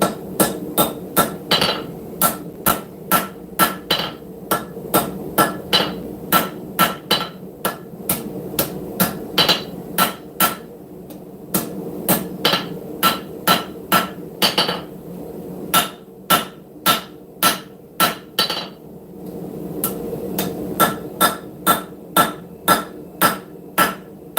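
A hammer forges the bevels and draws down the heel of a camp knife blade, striking in loud, close, rhythmic runs of sharp metallic blows with short pauses between bursts.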